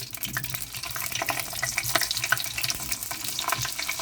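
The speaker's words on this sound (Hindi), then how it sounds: "थोड़ा सा ज़ीरा को तड़कने देंगे।" Cumin seeds, cloves and cardamom crackle and sizzle in hot oil for an egg korma, giving a steady dense hiss with scattered small pops throughout and no talk.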